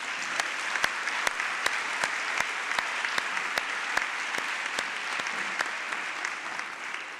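Steady, full applause from a large seated audience at an education prize announcement ceremony, honoring a county school district team, with a few sharp individual claps standing out in a continuous wash.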